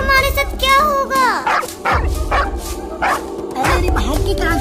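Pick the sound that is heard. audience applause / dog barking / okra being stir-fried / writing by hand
dog barking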